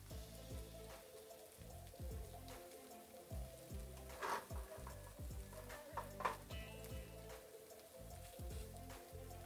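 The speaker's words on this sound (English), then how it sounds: "I'm just going to grab this spoon, kind of move them around a little bit." A spoon stirs julienned vegetables, sliced lengthwise, in a hot pan: a quiet, close sizzle with repeated scraping strokes and a couple of sharper clinks against the pan.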